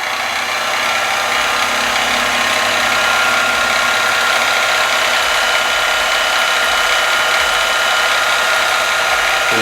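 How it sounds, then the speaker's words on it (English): A drill bores a pin hole into an AR-15 barrel on an M&P15, giving a loud, steady whirring grind that runs the whole time without pause. "We'll drill this in a little bit."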